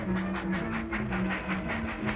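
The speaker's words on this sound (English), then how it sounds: "Come on, the train's going." A steam-era train departs in a Sherlock Holmes radio drama, its wheels setting up a rhythmic clickety-clack with a droning hum, loud and close, running steadily throughout.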